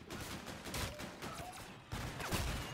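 Rapid gunfire from a weapon in Call of Duty: Infinite Warfare zombies mode, loud dense bursts of repeated shots filling the clip with a brief gap before another volley.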